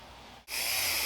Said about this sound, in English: If you haven't used one of these wire wheels on a Dremel before